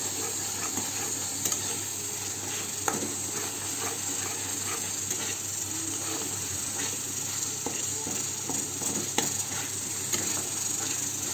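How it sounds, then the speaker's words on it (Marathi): Homemade masala and garam masala spices stirred in sizzling oil for a chicken curry, a steady frying hiss with soft scraping stirs throughout, close and continuous with no talk. "हे सगळं तेल सुटत हलवून घेऊया आपण मसाला"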